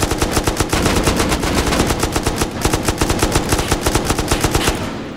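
Relentless automatic gunfire erupts during a raid in the survival game Rust, with AK rifles in use: rapid, loud, evenly spaced shots that run almost without pause before cutting off at the end.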